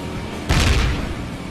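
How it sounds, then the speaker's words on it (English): A motorbike explodes in the Ride to Hell: Retribution video game, a single abrupt booming blast that cuts in loudly and decays over about a second. "finally will explode with the same stupid explosion sound effect every single time"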